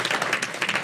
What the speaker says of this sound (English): if we could have one final great round of applause for the Spirit Squad.